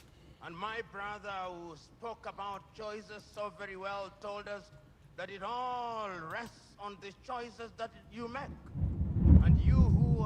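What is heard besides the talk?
thunder rumbling in the background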